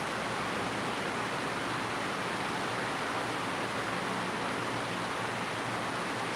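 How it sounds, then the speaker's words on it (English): A river rushing past snowy cottages in Gatlinburg, a loud, steady broadband roar of flowing water that fills the whole stretch without pause or voices. "But it's right on the river here."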